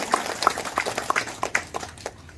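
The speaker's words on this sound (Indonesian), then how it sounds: "Kita berikan tepuk tangan." Scattered applause at a meeting, a sparse run of distinct, fairly close hand claps arriving in quick irregular bursts over a couple of seconds.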